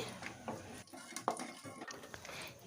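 Fried kachoris being lifted out of hot oil with a large slotted spoon: a few quiet metallic scrapes and clinks against the pan over a soft background sizzle, with one sharper clink midway.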